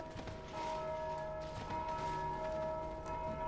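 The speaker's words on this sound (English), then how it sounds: "Oh, I rang a bell." A bell rings in the Dark Souls II video game, a sustained metallic tone with lingering harmonic overtones that rises in loudness and holds steadily, fairly faint in the mix.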